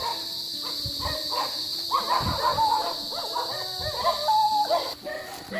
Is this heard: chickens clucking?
no